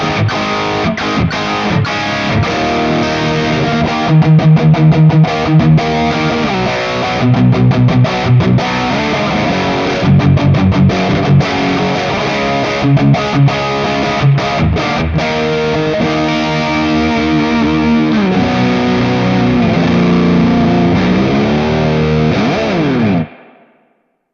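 Electric guitar played through a Diesel amp model on a Valeton GP-50 multi-effects unit, loud and distorted, with chugging chords and sustained riffs running continuously before an abrupt cutoff at the end.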